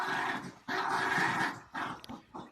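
A dog growls in several rough, sustained bursts separated by short pauses, close and fairly loud, with no talking over it.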